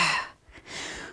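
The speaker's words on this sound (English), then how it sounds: "So we inhale as far as we can. Exhale" A single long exhale during a Pilates mat workout, starting with a strong breathy rush that fades out, followed by a soft second breath, close and alone with no talk.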